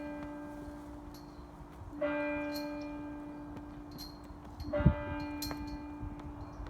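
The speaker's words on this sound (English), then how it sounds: "You can hear the bells on the church." Church bells ringing at a church in Louisiana on a windy Saturday afternoon before Mass, heard faint and distant as sustained tones with a few louder strikes, wind noise beneath.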